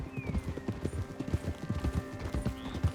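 In Red Dead Redemption 2, a horse's hooves clip-clop in a steady, close rhythm of repeated thuds over a low ambient hum, with no talking.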